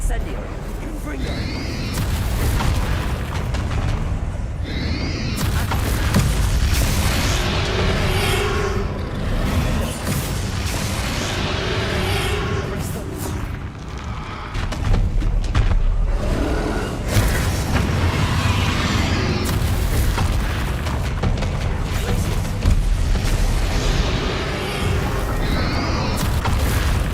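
Fire and blasting spell explosions crash through a boss battle in the video game Hogwarts Legacy. Deep booms and roaring bursts layer into a continuous loud barrage under game dialogue and music.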